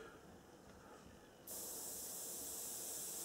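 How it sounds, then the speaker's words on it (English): Thinner sprayed from a can over decals on a scale model: a faint steady background gives way to a loud, continuous close-up hiss of aerosol spray that holds for the rest of the clip. "if you spray this on, you can actually watch the silvering sort of disappear"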